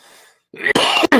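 Two short, harsh coughs in quick succession, close and loud, following a moment of quiet.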